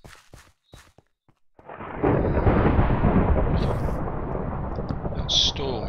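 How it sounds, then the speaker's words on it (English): Loud rolling thunder with heavy rain roars in from a Minecraft thunderstorm, taking over after a few soft, sparse footstep-like taps and then holding as a dense, close wash. "That storm is massively loud compared to all the other sound effects."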